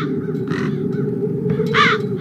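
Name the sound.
crows cawing in video game Chains of Satinav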